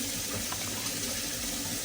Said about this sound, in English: I need to add some water to it now.